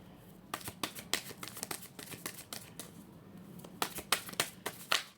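Oracle cards being shuffled by hand during a spiritual reading, heard as bursts of crisp riffling flicks in two clusters with a short pause between, close and quiet with no talk.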